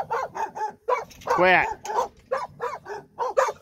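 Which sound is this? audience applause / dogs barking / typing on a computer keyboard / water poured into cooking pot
dogs barking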